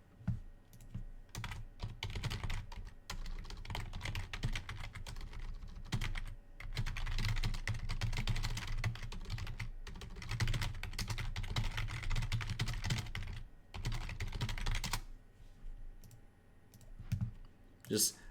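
Rapid computer mouse and keyboard clicking during an online Legacy card game match, a dense near stream of clicks and taps lasting many seconds with brief pauses.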